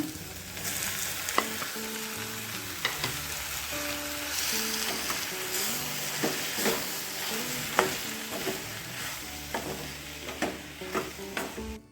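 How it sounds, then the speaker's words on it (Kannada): Tomato and methi leaves fry in a pan for a brinjal palya, with a continuous crackling sizzle and repeated nearby clinks and scrapes of a spatula stirring. Soft background music plays underneath and no one speaks. "ಚೆನ್ನಾಗಿ ಫ್ರೈ ಮಾಡ್ಕೊಳ್ಳೋಣ ಈಗ ಟೊಮೆಟೊ ಹಾಕೊಳ್ಳೋಣ"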